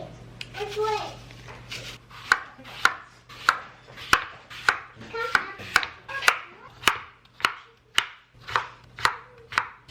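Apples being diced with a knife on a cutting board in a home kitchen, giving a steady run of sharp, evenly spaced chops close up, with a voice babbling faintly at the start.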